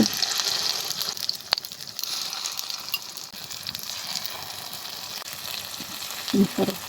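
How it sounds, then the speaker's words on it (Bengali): Eggplant rings fry in hot oil, producing a soft, continuous sizzle with occasional sharp pops and a brief clatter near the end. "গরম তৈলের মধ্যে এই বেগুনের রিংগুলো দিয়ে দেবো"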